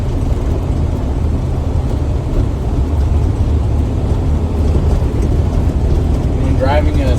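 A semi truck with an Eaton Fuller 10-speed transmission shifting into seventh gear gives off a loud, steady low diesel rumble from inside the cab, with no distinct shift break.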